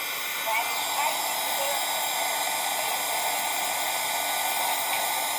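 A hair dryer blows hot air over wet paint on wooden Easter shapes, giving a steady, close whooshing hiss that runs the whole time at moderate level.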